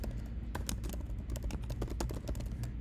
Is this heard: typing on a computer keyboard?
yes